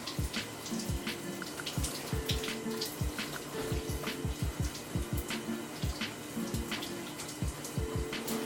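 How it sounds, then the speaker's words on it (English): Shower water runs over hair during rinsing, a steady close splash with irregular thumps and drips as the flow is broken up, with no speech. "I rinse my hair out."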